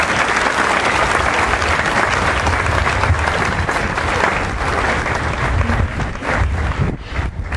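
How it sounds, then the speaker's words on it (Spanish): An audience at a school's 75th anniversary celebration breaks into loud, dense applause from many hands, sustained and close before tapering off near the end. "se merece un aplauso"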